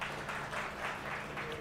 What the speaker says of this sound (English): If you can just do a quick clap.